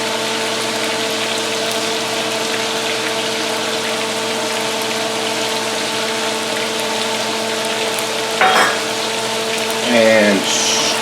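A flour mixture is stirred into hot sausage in a pan, giving a steady sizzle over a constant humming drone, with a couple of brief spoon scrapes near the end.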